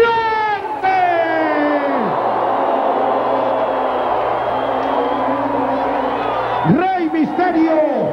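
Wrestling arena crowd at a lucha libre show, loud sustained cheering and shouting that fills the space, with voices rising in a burst near the end.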